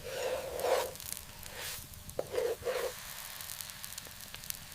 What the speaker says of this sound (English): Gentle sizzling and popping as the dough cooks